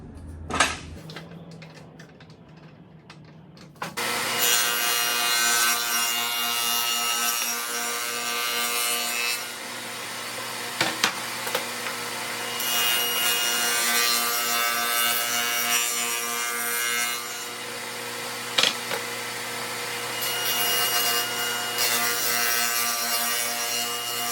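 Wood being cut on a table saw with a Micro Jig 360 sled, a loud continuous whining saw run with the blade biting through the workpiece, punctuated by a few sharp clicks.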